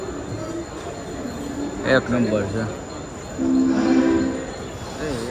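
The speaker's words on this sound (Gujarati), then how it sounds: "આપણે બધા બાંદ્રા રેલવે સ્ટેશન આવી ગયા છીએ." Rumbling platform ambience of trains at Bandra railway station in Mumbai, a steady background din running through the clip beneath a man's close-up talking.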